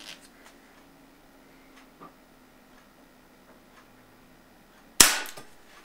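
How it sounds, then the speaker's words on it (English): A Colt SAA Peacemaker CO2 pellet revolver fires a single sharp shot into a soup can, a loud close crack near the end after quiet ticks and handling clicks. "I'm going to shoot this right into the soup can thingy"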